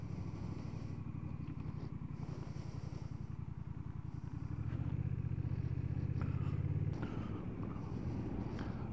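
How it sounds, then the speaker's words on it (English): A Honda CMX 1100 Rebel DCT motorcycle on a ride pulses with a low, throbbing twin-cylinder rumble that swells louder midway as it accelerates, with wind noise around it. "Yet another motorcycle test today."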